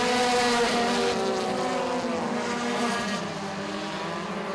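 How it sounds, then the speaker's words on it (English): Mini stock race cars roar around the track at Freedom Motorsports Park during a feature race, a loud continuous engine drone with shifting pitch as the pack passes, no speech. "He's got several car lengths in the bank here over the number 55 machine of Powers as they work through turns 3 and 4."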